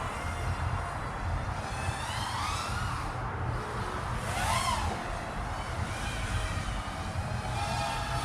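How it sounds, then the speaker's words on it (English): GepRc 1202 drone motors spin without propellers, giving a steady, faint electric whine with pitch sweeps rising and falling as the throttle changes, heard alone at close range. "Here's how the motors sound without the props."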